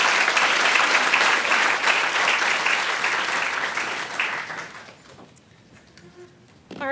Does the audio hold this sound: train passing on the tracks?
no